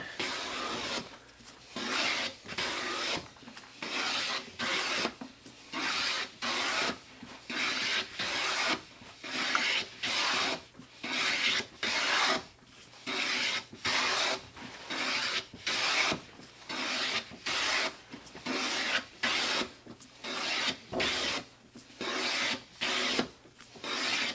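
A Lie-Nielsen No. 8 jointer plane is pushed by hand along a sapele board in about twenty steady, evenly spaced rasping strokes, each separated by a short pause, with no talking.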